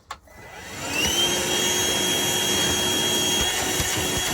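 A shop vac pulls suction through its hose, a steady, loud motor roar with airflow rush that starts abruptly about a second in and holds constant to the end, with no talking.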